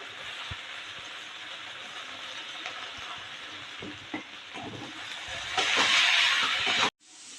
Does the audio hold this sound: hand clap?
no